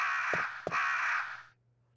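Crows caw in the Resident Evil video game, two harsh rasping calls close together, each carried by a long caw that fades to quiet, with a faint steady hum beneath.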